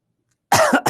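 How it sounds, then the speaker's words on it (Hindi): After silence, a speaker with a light chesty cough gives two quick, close coughs. "बस हल्की सी खांसी है बोलने में।"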